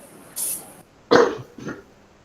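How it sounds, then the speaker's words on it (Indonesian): A short hiss, then one sharp cough followed by a smaller second cough, fairly close and alone. "Sorry, batuk ya kakak-kakak."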